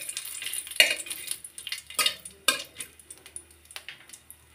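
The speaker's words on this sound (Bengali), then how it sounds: "2টা এলাচ, 2 টুকরা দারুচিনি দিয়ে একটু ভাজি করে নিতে হবে।" Bay leaf, cardamom pods and cinnamon pieces frying in a pan for a pumpkin rice-flour pitha, a low steady sizzle broken by several sharp clinks and scrapes of a utensil, close and without talk.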